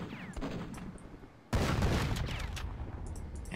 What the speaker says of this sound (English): There go those rockets.